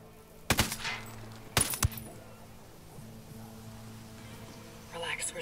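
Two short, sharp bursts of gunfire in Ghost Recon Wildlands, about a second apart, followed by a low ambient hum and a faint rustle near the end, fairly quiet overall.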